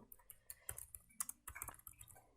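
Quick keystrokes on a computer keyboard while entering text in Adobe Illustrator CC 2021, an irregular run of close, light clicks with short pauses and a sharper tap at the end, no talking.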